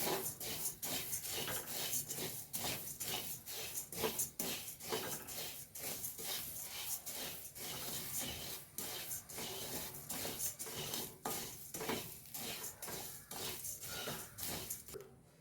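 Dry coriander seeds, 250 grams, being stirred and roasted in a pan for sambar powder give a steady, close run of scraping and rattling, with rhythmic spoon strokes across the metal and no talking.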